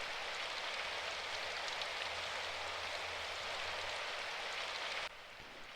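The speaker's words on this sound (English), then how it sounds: "It's raining." Steady, dense video game rainfall hisses evenly throughout, then abruptly drops to a quieter level near the end; no voices.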